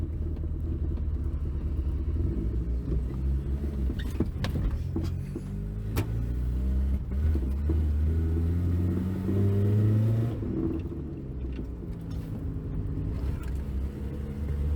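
Toyota KE70 car under full throttle from inside the cabin, a steady loud engine rumble with rising harmonic tones as it accelerates, continuous for the whole stretch with no talking.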